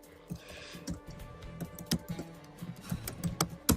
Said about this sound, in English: abuses his keyboard again